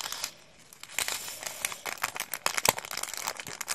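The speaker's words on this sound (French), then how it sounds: "j'ai retrouvé un petit sachet zip" A small plastic zip-lock bag crinkles and rustles up close in quick, uneven handling, with sharper crackles as the seal is pulled open.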